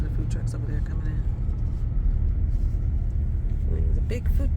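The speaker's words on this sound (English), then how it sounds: "There's a big food truck parade." Food trucks roll past in a parade on the inner track at Talladega Super Speedway, with a steady rumble of engines and road noise close by and continuous.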